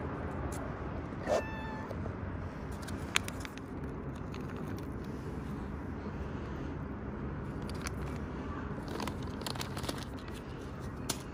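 A domestic cat meows a few times while being fed dry food, one clear meow standing out early over a steady low background hum, with faint clicks and rustles of eating afterward.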